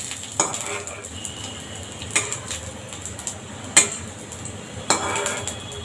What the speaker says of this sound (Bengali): এপাশ ওপাশ খুব সুন্দর করে লাল লাল করে ভেজে নিতে হবে